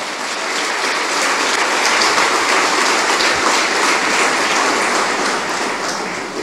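A church congregation at a sermon breaks into dense, sustained applause, a continuous loud wash of many hands clapping at once that holds steady throughout.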